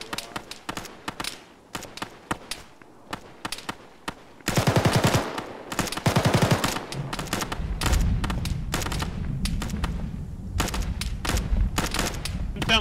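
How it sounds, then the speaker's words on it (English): Gunfire in a military shooter video game with a light, airsoft-like character: sparse single cracks at first, then dense rapid automatic bursts, with a low rumbling background and occasional voice. "Sound like airsoft guns."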